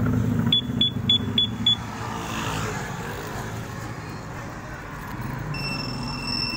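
A car's two-way alarm system armed with the alarm lock gives a short run of rapid electronic chirps and then a steady high alarm tone. The sounds ride over a constant low engine or road hum.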